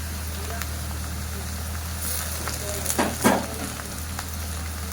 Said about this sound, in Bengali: এবার এর মধ্যে টমেটো দিয়ে দিতে হবে